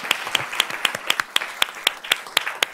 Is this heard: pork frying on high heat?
no